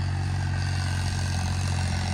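A 40 HP John Deere tractor with big tyres and a turbo runs at a steady, loud, continuous engine drone, close by and with no talk over it.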